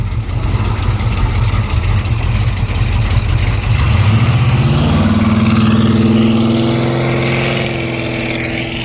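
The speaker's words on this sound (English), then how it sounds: "All right, Ryan, that was the first test drive, I guess." A Plymouth Road Runner engine on its first test drive after an engine swap, a loud close roar that rises in pitch as it accelerates, then settles into a steady drone.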